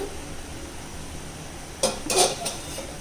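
Cooked rice tipped into a pot of egg biryani, giving a short burst of clattering metal and scraping around the middle, then a couple of lighter knocks, close and fairly quiet with no talking.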